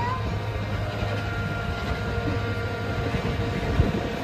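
A farm train ride at Hill Ridge Farms in Youngsville, North Carolina: a steady, close rumble of rolling wheels and machinery with little variation throughout.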